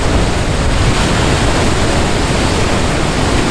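Rough ocean waves crashing on the shore at Seixal, Madeira, a loud continuous roar of surf with no break, close and enveloping.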